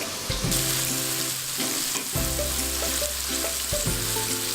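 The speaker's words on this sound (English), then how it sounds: "just put your meat pieces into the hot oil and fry until golden brown" Beef pieces for Mongolian beef fry in hot oil, a loud, continuous close-up sizzle and crackle with music playing underneath and no talking.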